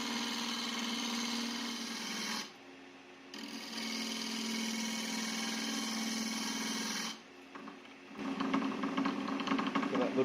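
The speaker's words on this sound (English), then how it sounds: "Starting off with a roughing gouge, just making sure I'm taking really light passes." A roughing gouge takes light passes on a wood lathe, a steady buzzing whir broken by two brief pauses, then resuming rougher and more uneven, close and continuous.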